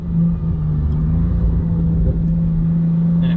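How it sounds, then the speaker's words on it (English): Hyundai Genesis 3.8 with an upgraded aftermarket exhaust, idling with a steady, deep low rumble heard close by and alone, holding an even tone throughout. "He just put an updated exhaust on it, upgraded exhaust on it. And my, this thing sounds great."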